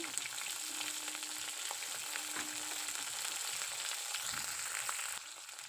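Cinnamon, cardamom and green chilies fry in hot oil in a pan, giving a steady, close crackling sizzle throughout with small pops, and no one speaking.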